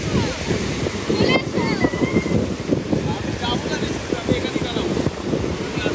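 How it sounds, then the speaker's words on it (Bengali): Sea waves break on the beach at Tajpur, a surging wash of surf mixed with wind buffeting the microphone, with voices talking over it. "তো বেশ দারুণ এরকম ঢেউ আসছে একদম"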